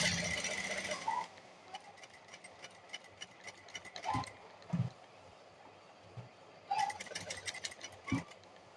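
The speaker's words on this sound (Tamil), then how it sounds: "இப்போ நம்ம இதில் அப்படியே கேன்வாஸ் வச்சு தையல் வந்து போட்டுடலாம்." A sewing machine stitches canvas onto a churidar neck in two short bursts of rapid, even needle clatter, separated by a quiet pause with a few soft knocks and fabric handling.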